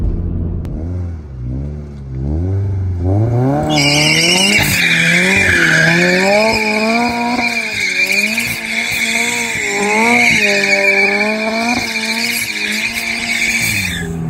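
Turbocharged Scion FR-S spinning donuts, its engine revving up and down in a steady rising-and-falling pattern while the tires squeal loudly and continuously through most of the stretch, close and dominant with no talking.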